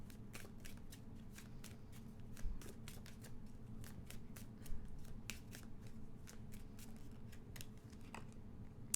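Tarot cards shuffled by hand, a steady run of quick crisp riffling snaps and slaps, close and fairly quiet, continuing without talk.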